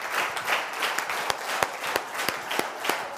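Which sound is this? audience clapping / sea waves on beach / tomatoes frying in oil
audience clapping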